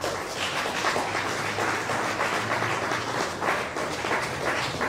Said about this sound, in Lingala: ici on peut l'applaudir.